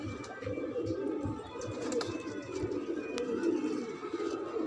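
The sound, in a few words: pigeons cooing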